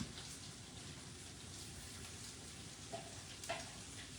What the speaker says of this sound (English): She's over here frying cornbread